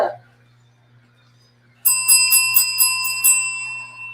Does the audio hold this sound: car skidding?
no